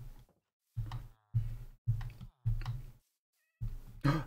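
A cat meows repeatedly in a video game, with about six short, fairly loud calls in an irregular rhythm separated by brief silences.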